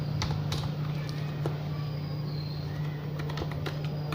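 Computer keyboard typing in Notepad, a run of light irregular key clicks over a steady low electrical hum, with no talking.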